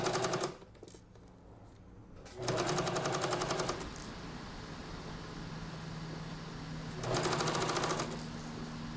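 A sewing machine stitches a round fabric pumpkin basket in two short rapid bursts of needle clatter, with a quieter stretch of room noise between them and no talk.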